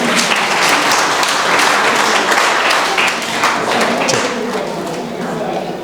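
Audience at a UPSC seminar and counselling session at Chanakya IAS Academy applauding loudly and continuously, a dense roar of clapping from a large crowd filling the room.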